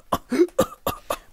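A man's cough bursts out several times in quick succession, a few short harsh hacks spaced about a quarter second apart, close and fairly loud, in a drunk, sickly state in a damp wine cellar.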